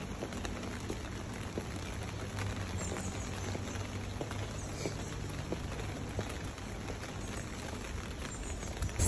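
Rain falls on a city shopping street outside luxury stores, making a soft, steady patter of drops beneath faint distant ambience.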